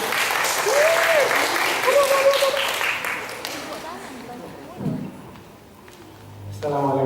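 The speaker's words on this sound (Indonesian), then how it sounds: "Silakan beri tepuk tangan yang meriah kedua." Audience applause at an indoor psychology seminar, broad clapping filling the first few seconds and then thinning out, with voices and a short tone near the end.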